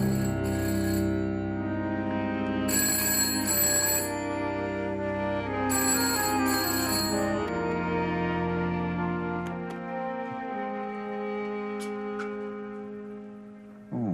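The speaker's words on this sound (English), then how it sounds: "Why aren't you answering the phone?" A telephone rings in a quiet indoor setting, giving repeated bursts of bright electronic bell tones in a regular on-off pattern, clear and close, fading toward the end.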